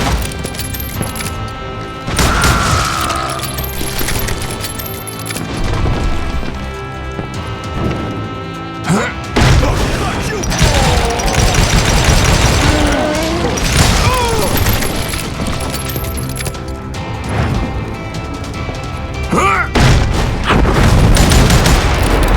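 Call of Juarez Gunslinger gunfire crackles in repeated sharp bursts and booms across a loud, dense game soundscape, with short pauses between volleys.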